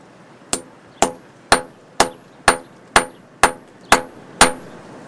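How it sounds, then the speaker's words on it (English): A hammer flattens a chiselled piece of metal ingot into a sheet during hand knife-making with simple tools: nine sharp, ringing metallic blows, evenly spaced about half a second apart, loud and close with a short decay after each. "I'm using the edge of the flat side of the hammer to push the metal in the direction that I want it to go"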